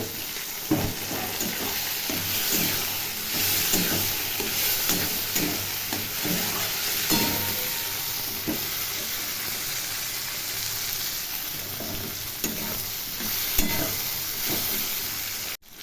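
Chopped onion and tomato fry in a pan with a steady broadband sizzle and hiss that runs unbroken for about sixteen seconds, stirring scrapes and clatters rising through it at intervals before it cuts off sharply at the end.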